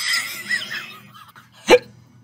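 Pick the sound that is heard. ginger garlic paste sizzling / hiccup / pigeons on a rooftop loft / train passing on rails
hiccup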